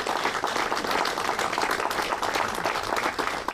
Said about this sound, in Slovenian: Prosim, da jih z aplavzom lepo se jim zahvaljujem